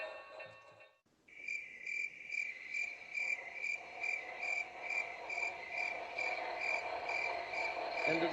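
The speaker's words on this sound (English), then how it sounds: "End of the day, the crickets are chirping" Crickets chirping at day's end as a sound effect on an HO scale N&W model railroad layout: a steady, pulsing chorus of high chirps that starts abruptly after a brief pause and continues evenly at moderate volume.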